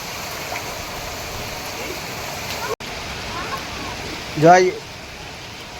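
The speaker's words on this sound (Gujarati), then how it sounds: "આ બાજુ પણ તમે જોઈ લો કેટલો મસ્ત મજાનો વરસાદ જામેલો છે" Heavy monsoon rain falling in Surat, Gujarat, a steady broadband hiss of downpour throughout, with someone talking over it and a brief louder voice near the end.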